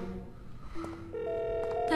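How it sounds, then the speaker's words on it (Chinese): A telephone call is placed: a few brief dial tones and beeps, then a steady ringback tone that holds on, quiet and close, with no one speaking. "丹尼尔，你已经打了21个电话了，他肯定是没带手机"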